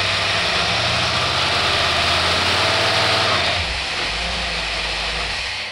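A boat engine with a Holley 2-barrel marine carburetor runs loud and close, a steady throbbing roar that shifts to a lower, slightly quieter idle partway through.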